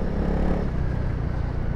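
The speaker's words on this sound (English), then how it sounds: "this is a winter darkness nighttime riding test for the Honda CRF" A Honda CRF300L motorcycle rides through a dark Finnish forest on a winter night, its engine a steady low close rumble with faint rattling and no clear revving.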